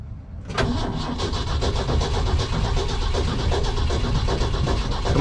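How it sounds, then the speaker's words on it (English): An old cabover truck engine cranks and tries to start, a loud, rough, continuous churning with a rapid pulsing rhythm that begins abruptly and runs without catching, close and alone. "I want to get this thing moved so I can start messing with Betty White. Well, give her a little gas here"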